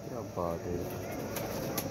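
Pigeons coo in low, soft repeated calls close by while someone talks over them, with a few faint high chirps toward the end.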